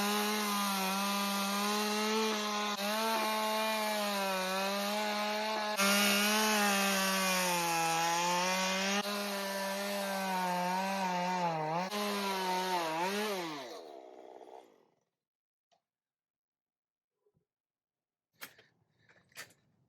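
A chainsaw roars continuously while milling lumber, its pitch dipping and straining under load, then cuts off into near silence followed by a few faint knocks.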